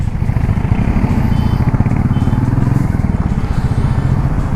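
A KTM motorcycle engine, a 250 or 390, idles with a steady, close, throbbing low rumble that holds even throughout.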